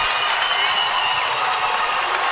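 A steady roar of a basketball crowd cheering and clapping at a UConn versus Tulane game, loud and continuous with no clear breaks.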